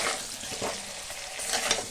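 Steady frying hiss with scraping stir sounds, potatoes crackling in hot oil close by, no voices.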